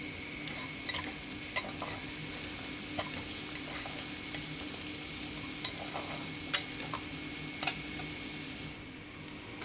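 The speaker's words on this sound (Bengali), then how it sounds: "লবণটা দিয়ে আমি এটাকে একটু ভালো করে ভেজে নিচ্ছি" Onions frying with salt in a pan, a soft steady sizzle under repeated sharp taps and scrapes of a spoon stirring against the pan, close and fairly quiet, without any talking.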